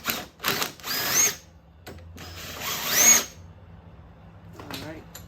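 Power tool spinning out a bolt from a go-kart fender mount, a few short, sharp whining bursts of a drill or impact driver separated by pauses with small clicks and handling noise.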